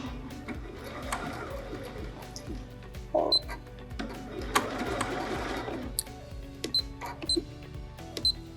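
A Bernina sewing machine with a circular embroidery attachment sews a straight stitch, its rapid mechanical needle chatter running close and steady in bursts, with short clicks and pauses between runs.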